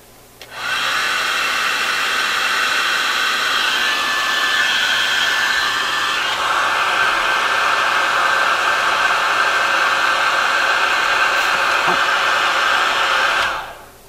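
A heat gun blasts hot air over the capacitors of a bed lamp-radio, a loud steady roaring whoosh that starts abruptly, holds for about thirteen seconds close by, then cuts off.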